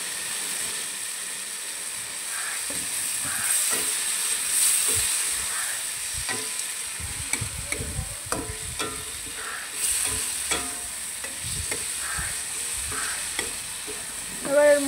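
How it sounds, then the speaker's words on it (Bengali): Potatoes tossed into a spiced masala in a hot pan: a continuous frying hiss and sizzle with a series of sharp spatula scrapes and stirring knocks, close and fairly loud, no talk. "এবার এর মধ্যে আলুগুলো দিয়ে দেবো।"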